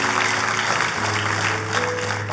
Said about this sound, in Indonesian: Kalau mau tepuk tangan yang paling meriah saudara